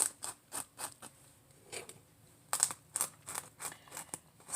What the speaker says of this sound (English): But I'm just taking it and I'm scraping all these little seeds off.